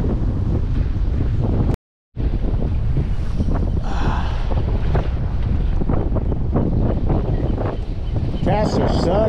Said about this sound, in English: Wind is blowing. Good 10, 20 miles an hour right now.